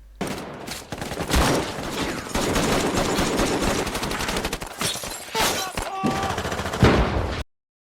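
Gunfire in a film battle scene against ISIS fighters, with dense bursts of automatic fire and scattered single shots cracking loudly and near, over a layered combat soundtrack.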